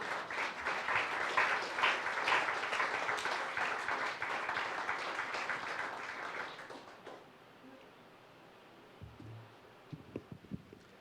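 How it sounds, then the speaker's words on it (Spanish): A church congregation claps loudly for several seconds, then the applause fades out around seven seconds, leaving near-quiet with a few faint bumps and a short low voice. "¿Cuántos le pueden dar un fuerte aplauso a Jesús por eso?"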